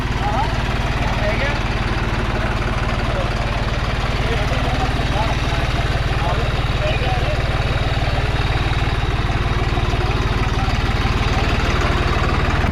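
A New Holland 3630 TX Plus 4x4 tractor engine idles with a steady, close, droning rumble that runs the whole time, with voices talking over it.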